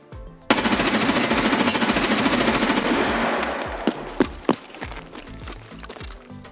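An M4A1 rifle in Escape From Tarkov fires one long, loud, rapid automatic burst of about three seconds, then a few separate single shots ring out, with clinks and shuffling afterward.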